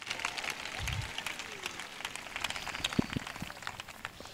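A church congregation applauds in a steady, dense patter of many hands during a lively worship service, with a voice briefly rising over the clapping.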